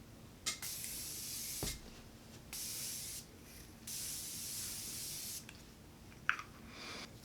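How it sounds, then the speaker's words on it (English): An aerosol setting mist is spritzed onto a face in several quick bursts: soft, fine hissing sprays of uneven length, separated by short quiet pauses, close and gentle. "So I'm gonna just spritz my face with this real quick."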